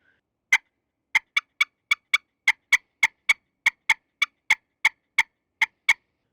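Rapid, sharp clucks from a turkey pot call cut in quick bursts, imitating an excited hen, about eighteen crisp notes in an uneven grouped rhythm, close and clear with no talk.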